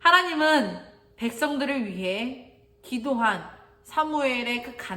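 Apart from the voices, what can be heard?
None of the usual background noises is heard.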